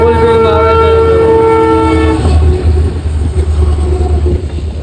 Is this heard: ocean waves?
no